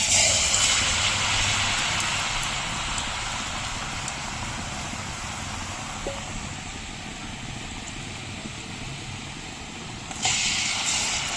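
Sukhiyan dough balls dipped in batter and dropped into hot oil, a loud steady sizzling hiss that fills the whole stretch, easing slightly then flaring again near the end.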